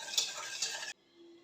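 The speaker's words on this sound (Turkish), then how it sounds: "Burada da bir su bardağı yine şekerim var. Hemen ilave ediyorum arkadaşlar." A cup of sugar is tipped into milk in a pot, making a close, bright hissing pour that cuts off suddenly, leaving a faint low hum.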